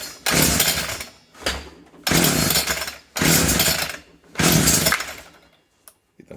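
Homelite string trimmer engine with a carburetor problem revving loudly in four or five bursts, each roaring for about a second and then dropping away, close and without talk.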